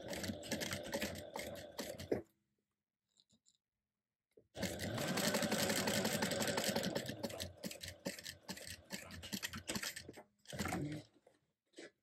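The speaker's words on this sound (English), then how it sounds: "you'll go ahead and top stitch 1/8 of an inch away from the top" Sewing machine top stitching a fabric clutch, with rapid rattling bursts of needle motion that stop for a couple of seconds and then resume in a long run, close and clear with no talk.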